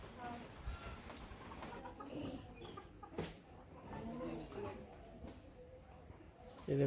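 A village chicken clucks in short, scattered calls against outdoor background noise, with soft voices in the background.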